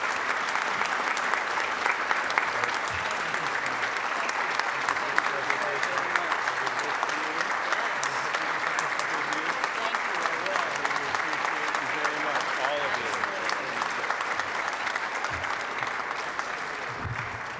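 A Rotary meeting audience applauds the Hamilton County Sheriff and a group of awardees with a sustained, dense round of clapping that holds steady and loud for the whole stretch, with no pause.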